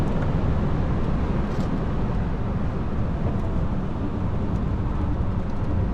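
A Mercedes-Benz W204 C200K with an automatic gearbox is pushed to 6300 rpm at the Inje Speedium race track. Its engine and road roar stay loud and steady for the whole stretch, with no one speaking.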